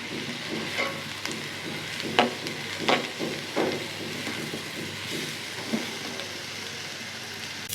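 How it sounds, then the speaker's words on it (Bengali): Raw rice frying with spices, ginger and garlic for pulao gives a soft continuous sizzle. A few scattered clinks and scrapes of stirring rise above it, and no one speaks. "এখন চালটাকে অনেকক্ষণ ভেজে নেব"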